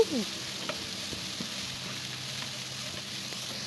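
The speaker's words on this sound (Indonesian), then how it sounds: "Diosreng-osreng sampai layu." Green beans and long beans stir-fry in a hot pan, giving a steady close sizzle with light spatula scrapes and stirring clatter throughout, with no voices.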